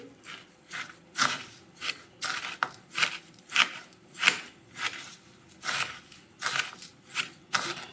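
Cotton candy sugar being mixed with pink colouring by hand gives a steady run of close, gritty rustling strokes, roughly two each second and repeating evenly, with no voices.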